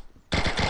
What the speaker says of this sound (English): You can move the props by shooting them